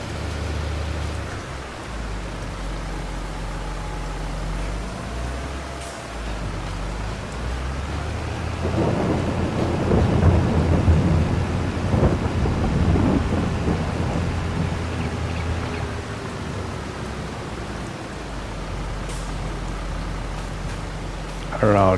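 Thunderstorm rain in Farming Simulator 22: a steady, dense hiss of heavy rainfall with low rolling thunder swelling through the middle, loud and continuous throughout.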